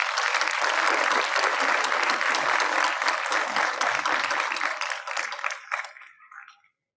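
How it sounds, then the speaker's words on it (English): A school audience applauds at a pre-primary convocation ceremony, dense sustained clapping that thins out toward the end with a few last scattered claps before silence. "A huge round of applause."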